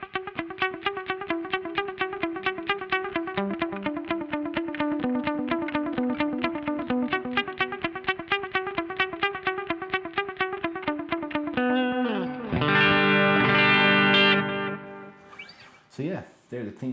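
Clean 1972 reissue Japanese-made Thinline Telecaster with a Graphtech Ghost piezo pickup, played through a dull analog delay: a steady run of plucked, percussive notes, then a strummed chord left to ring and fade.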